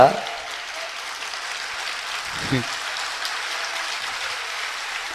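An audience at a sermon by Acharya Vidyasagar in Indore claps steadily in a dense, rain-like wash of hand claps, with a brief voice cutting in midway.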